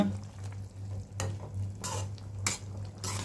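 Karuvadu kulambu, a dried fish curry, being stirred and mixed in a pan, with repeated scraping strokes over a steady simmering sizzle.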